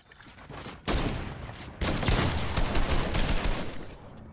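Gunfire in the Fortnite video game, heard as a loud burst of rapid shots that starts abruptly and keeps going as dense, continuous fire with no talk over it.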